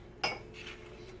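A single sharp clink as an egg is dropped into a bowl while making pigs in a blanket with almond or coconut flour, followed by faint soft rattles in a quiet kitchen.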